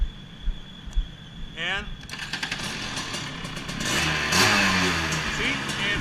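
A Rotax DD2 go-kart engine fires up on its electric starter and settles into a steady idle around 3,700 RPM, loud and close, with someone talking over it.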